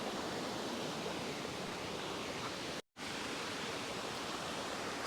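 Waterfall in New Zealand, formed by a volcano on a farm, a steady broadband rush of falling water filling the scene, with a brief dropout midway; no birds stand out.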